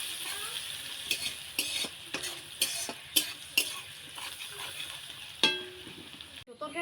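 Chopped garlic sizzles in a pan for a pangas fish curry with greens, punctuated by a spatula clacking against the pan at irregular intervals, close and moderately loud, then stopping abruptly.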